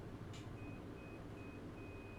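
Several faint, thin electronic beeps from a clothes dryer signalling the end of its cycle, coming from another room and sitting over a steady background hum.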